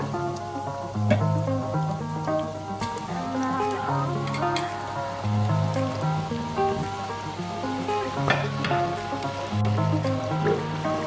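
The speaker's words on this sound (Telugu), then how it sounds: "ఇలా నేను మిగిలినవి కూడా ఫ్రై చేస్తున్నాను" Chicken popcorn pieces fry in hot oil with a continuous crackling sizzle, like rain on a surface, close and steady throughout, over a droning tonal background hum.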